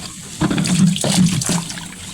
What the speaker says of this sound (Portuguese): Agora eu colocar água pra fora do tanque.